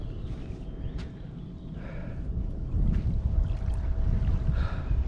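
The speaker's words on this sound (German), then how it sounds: "Da sehe ich schon, ein Boot ist hinter mir." A boat moves on open water with a continuous wash and rumble, swelling louder midway and staying close and steady with no talking.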